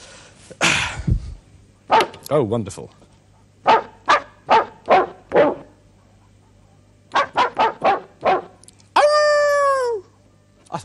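Sampled dog barks played back on a Fairlight CMI computer instrument: a string of short, bright yelps and barks in rhythmic clusters, ending in a sustained pitched howl-like tone, with a brief spoken remark near the start.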